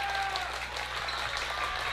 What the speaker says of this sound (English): Student section getting into it here, applauding the defensive effort by Somerset.